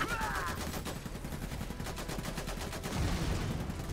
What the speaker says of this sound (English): there's the machine gunners going to work.